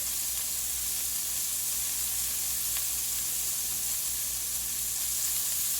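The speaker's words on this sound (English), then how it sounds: "If you let them sear like they need to, they'll come loose easier." Hamburger steaks sear in a hot pan, giving a steady, close, continuous sizzle with a constant hiss and no voices.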